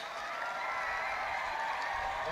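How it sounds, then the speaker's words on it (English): Graduates at a university graduation ceremony clap for their parents, a steady, faint wash of crowd applause that holds evenly throughout with no clear pauses. "I ask the graduates to clap for the parents"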